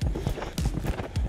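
A horse cantering in a training arena, its hoof beats landing in a steady three-beat rhythm, close and clear, with a faint voice underneath.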